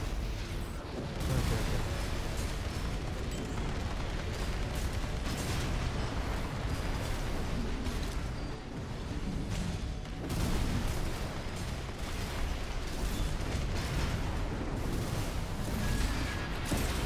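Missile explosions and weapon fire in the mech combat game Armored Core 6, during an arena battle, form a loud, dense, continuous barrage of booms and blasts with no pauses over the whole stretch.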